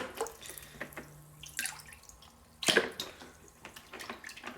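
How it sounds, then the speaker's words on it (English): A Wagner Control Pro 250M paint sprayer gun being swished and rinsed in water, with irregular drips, splashes and gurgles, one louder splash midway, close and without talking. "just submerge it in water, give it the once over, and it cleans up pretty easy"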